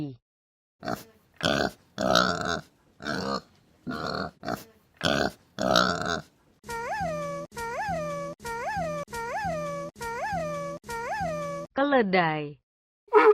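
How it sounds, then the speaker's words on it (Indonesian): A pig grunts in quick, rough bursts up close for several seconds, followed by a series of evenly spaced, tonal calls. "Babi."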